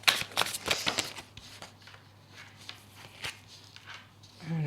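Tarot cards shuffled and dealt close by, a run of crisp papery riffles and flicks up front thinning to sparse taps, with a brief voice at the very end.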